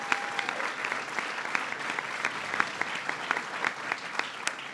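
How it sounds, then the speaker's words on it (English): An audience at a White House Hanukkah reception gives a round of applause for Middle East peace envoy George Mitchell, sustained even clapping from a large room with scattered sharper individual claps, no talking over it. "Please give him a round of applause."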